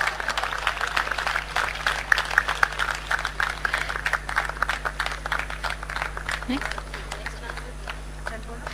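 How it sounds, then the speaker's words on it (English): At a university convocation ceremony, an audience gives a round of applause for a graduate, with clearly separate hand claps that patter on steadily over several seconds. A low hum runs under it and voices talk across it. "Ladies and gentlemen, let's have a huge round of applause."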